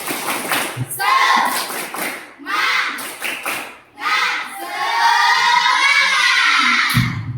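Schoolchildren in a classroom do a rhythmic spirit clap, sharp patterned bursts of clapping mixed with chanted voices, loud and close, in short phrases with pauses between them.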